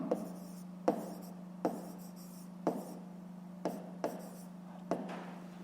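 A pen writing on paper in short scratchy strokes, about seven quiet taps and scribbles spaced roughly a second apart over a steady low hum.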